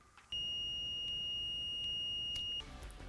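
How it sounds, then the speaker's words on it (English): A single steady electronic beep from a multimeter continuity test on a patch cable, high and thin, holding for about two seconds before cutting off, with faint background noise before and after. "We have a beep."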